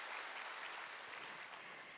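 An audience applauds at a business success seminar, a dense, steady wash of clapping from many hands at moderate distance, with no talking over it.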